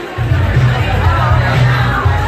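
A packed venue backstage fills with loud, dense crowd noise, a close roar of overlapping voices and cheering with a deep booming rumble pulsing underneath.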